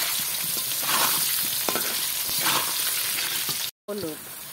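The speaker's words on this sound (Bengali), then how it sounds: "এবার এই তেলে আমি কিছুটা আলু কেটে রেখেছিলাম, আলুগুলো ভেজে নেব" Lightly boiled, salted potato pieces fry in hot oil for an egg biryani. A continuous close crackling sizzle with stirring runs throughout, cut by a brief silent gap near the end.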